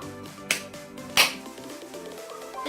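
Two sharp, loud hand claps ring out about a second apart to make a Hatchimals toy go quiet, while the toy's soft electronic chirping plays underneath.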